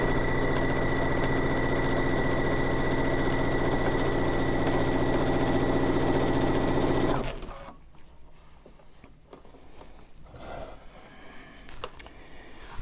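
A sewing machine with its embroidery arm attached stitches a hooded towel, running in a loud, steady, close mechanical whir for about seven seconds before stopping. Faint handling clicks and rustles follow.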